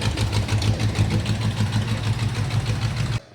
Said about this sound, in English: The motor right now is spitting and sputtering. It's almost like running on like 7 cylinders